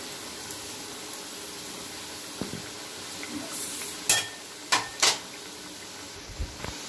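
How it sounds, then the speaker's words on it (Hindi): Holi sweets deep frying in hot oil over a high flame, a low steady sizzle under a few sharp clinks and scrapes of a utensil against the pan, with no voices. "तो अब हमें इसे डीप फ्राई करना है।"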